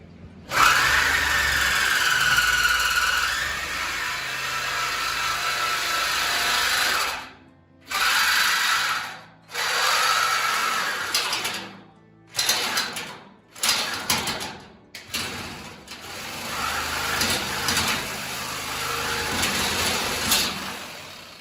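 A power drill runs in bursts while a custom transmission mount is fabricated, a loud whining spin held for several seconds, then cutting in and out in short stop-start pulses.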